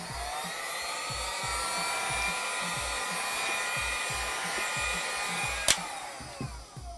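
Heat gun blowing on the back cover of a Galaxy Note 5 to soften the adhesive, a steady airy whir with a low rhythmic motor pulse, a brief click near the end.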